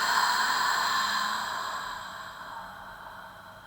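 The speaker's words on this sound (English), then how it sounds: "Exhale out through the mouth." A slow breath is pushed out through the mouth during a guided breathing exercise, one long, soft, airy exhale close up that fades gradually, with no talking.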